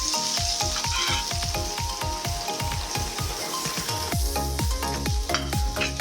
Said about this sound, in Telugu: 1/2 కిలో కాకరకాయకి బాగా తరిగిన తర్వాత ఉప్పేసి బాగా పిండి వేయించుతాను